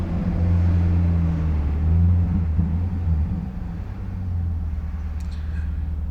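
Chevrolet C8 Corvette E-Ray hybrid accelerating, heard from inside as a steady low engine rumble with a droning tone that rises, then eases back, fairly loud and without talk.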